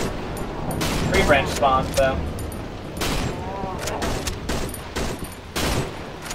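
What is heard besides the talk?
gunfire in Cry of Fear video game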